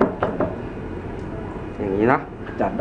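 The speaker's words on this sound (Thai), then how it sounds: "เคาะนิดนึงครับ กับทางเคาะเคาะใส่ผ้านั่นแหละให้ไอ้น้ำออกนิดหน่อย" A few dull knocks as a vacuum outlet part is tapped against a cloth to shake out water, sounding close and brief, with someone talking throughout.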